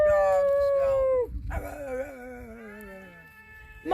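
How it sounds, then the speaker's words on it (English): A wolf-dog at a wolf sanctuary howls in long, wavering, gliding tones, with one howl fading, a second rising and sliding down, and a third beginning at the end, loud and close. "Have you noticed how Balto tries to howl"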